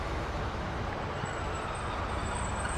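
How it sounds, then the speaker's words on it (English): A two-car Great Western Railway train, a class 150, rolls into platform 3, giving a steady low rumble with a faint high tone above it that holds even throughout. "Train just arriving on platform 3."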